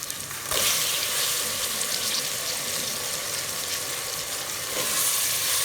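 Chopped ridge gourd (tori) hits hot, well-roasted masala in a pan. A sharp burst of sizzling gives way to a dense, steady frying hiss that swells again near the end.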